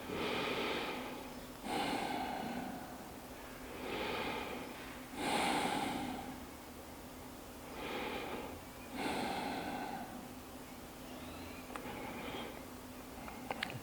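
Slow, deep breaths repeat at a steady, unhurried pace, each inhale and exhale drawn out and close, with quiet pauses between them.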